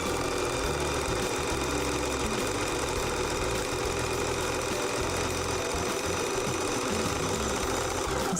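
A domestic sewing machine runs steadily, stitching fabric in a continuous mechanical whir with a regular rapid rhythm, close and fairly loud throughout with no talking.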